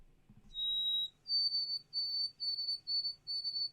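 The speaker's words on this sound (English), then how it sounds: "That's a white-throated sparrow." A white-throated sparrow sings alone: one pure, steady whistled note followed by a higher series of five or six evenly spaced, clear whistled notes, crisp and fairly close against a quiet background.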